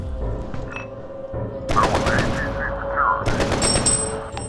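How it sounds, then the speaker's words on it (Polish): Machine gun fire in the shooter game F.E.A.R., a loud, dense fusillade of rapid shots in sustained bursts with booming impacts, heard close over a player's talk. "To jest karabin maszynowy się okazuje."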